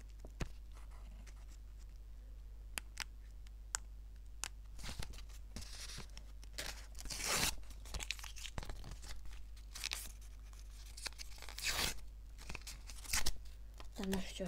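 A plastic Adopt Me toy collection packet crinkles and tears in repeated sharp bursts close by, with a low steady hum underneath and someone talking now and then.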